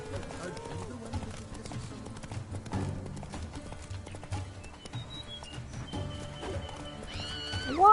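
Roach, the horse in The Witcher 3, neighs and clip-clops at a gallop amid game music and effects, with a rising whinny near the end and hoofbeats running throughout at moderate loudness.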